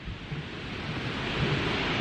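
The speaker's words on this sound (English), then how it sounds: "Oh, that is a waterfall and a half." Waterfall rushing as a continuous broadband roar, steady and fairly distant, with no voices.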